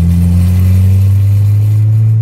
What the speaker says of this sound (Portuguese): acabou de passar um Passatão acelerando aqui, mano